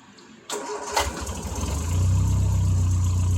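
A classic British car engine started with a little choke: quiet at first, a click, a brief crank, then the motor catches and settles into a loud, steady, rumbling idle.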